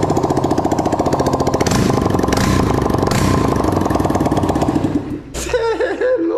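A Honda CG Fan 160 motorcycle fitted with a loud sport exhaust runs close up with a rapid, steady, rattling engine pulse, then the engine cuts off near the end and a brief whining sound follows.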